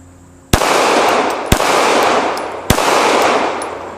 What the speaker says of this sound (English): I'm shooting an FN 509 tactical